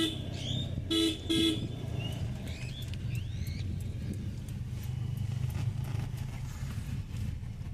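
A car horn toots twice in quick succession over a steady engine rumble on a narrow hill road in Lansdowne, followed by faint bird chirps and light road noise.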